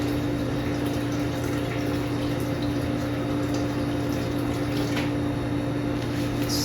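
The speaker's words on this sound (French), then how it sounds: "Donc, j'ajoute... 550 d'eau." About 550 ml of water is poured into the bowl of a Thermomix TM7, making a steady close trickle and fill sound that runs unbroken for several seconds over a faint mechanical hum.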